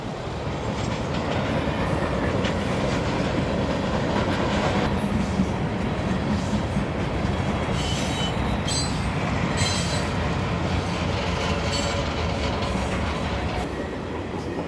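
A freight train rumbles steadily past under an overpass with continuous loud wheel noise and rhythmic clatter, high squeals rising now and then over the sustained roar, with traffic noise below.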